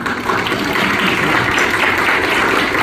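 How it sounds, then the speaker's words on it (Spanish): Dense, loud, continuous applause fills a hall at a Paraguayan young researchers' conference, steady and unbroken. "para que le pido un aplauso"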